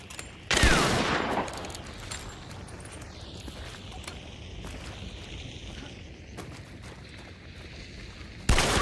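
Gunfire in a shooter video game: a loud burst of rapid shots at the start, then a lingering rumble and scattered fainter reports, with another sharp blast near the end.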